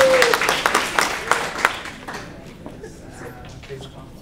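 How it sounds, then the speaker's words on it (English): Audience applause for two teachers at an intergenerational event, starting as a burst of clapping under a speaker's voice and thinning out over a few seconds as talk continues. "give him a big round of applause"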